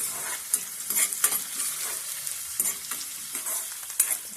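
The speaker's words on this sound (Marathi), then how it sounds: "कांदे आपण भाजून घेऊया मस्त गोल्डन ब्राऊन" Onions frying to golden brown in a pan for an egg curry, with a close, crackling sizzle and repeated scrapes and taps of a spoon stirring them at an uneven rhythm, no voices present.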